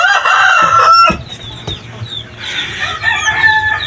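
Shamo and Asil chickens sound off up close: a rooster crows loudly, followed by scattered clucks and calls from the flock, with no talking.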